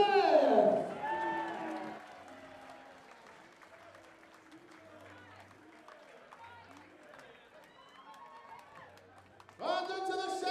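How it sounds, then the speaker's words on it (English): Applause and cheering from the darts crowd at the 2024 WDF Lakeside World Darts Championship for Kai Smith, loud at the start, then a quieter stretch under an announcer's voice, with a fresh burst of clapping at the end. "a massive round of applause first of all for Kai Smith"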